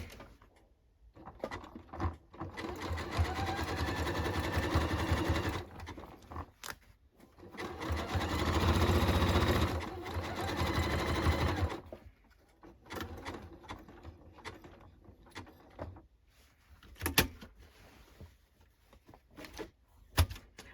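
A sewing machine stitches the side seam of a denim jacket in a few sustained runs of rapid, close whirring, with short pauses and light handling clatter in between.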